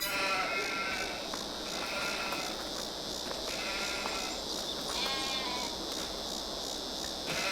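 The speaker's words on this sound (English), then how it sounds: "So we got 20 head of sheep." A flock of twenty sheep in the Farming Simulator 22 video game bleats repeatedly, overlapping calls rising and falling over a constant background hum, fairly close and clear.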